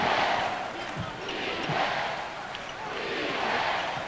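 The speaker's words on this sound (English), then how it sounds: "Fan of defense from the crowd." Arena crowd at a 1996 NBA Eastern Conference Finals playoff game between the Chicago Bulls and Orlando Magic chants defense. Loud roaring swells rise and fall in a rhythmic pattern, with faint ball thumps beneath.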